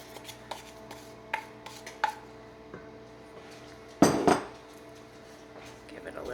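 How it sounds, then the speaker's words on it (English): A spoon taps and clinks against a mixing bowl while buttermilk and egg mixture is stirred into bran muffin batter, sparse light knocks leading to one louder scraping burst close by. "Give it a little stir."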